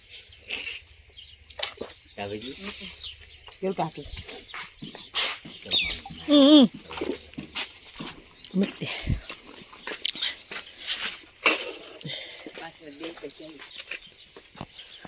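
Harsh squawks and chattering calls of parrots, irregular and fairly close, mixed with brief human voices.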